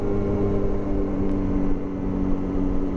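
Yamaha FZ6 motorcycle with a custom exhaust and the baffle fitted, running at steady low revs with a loud, continuous droning exhaust note close by and no talk.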